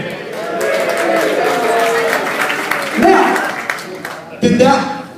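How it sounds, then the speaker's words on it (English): Audience applause and crowd noise at a DJ event, steady clapping and chatter across the room, with two brief louder bursts of cheering near the end. "Did I get the right amount of applause?"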